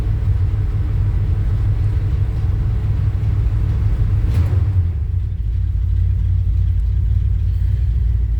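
A Chevy C10 pickup truck sits idling on a cold day to warm up, its deep, even engine rumble continuing close by and unchanged, with a faint, brief higher sound around the middle and no talking.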